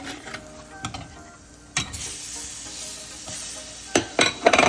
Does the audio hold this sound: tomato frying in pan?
yes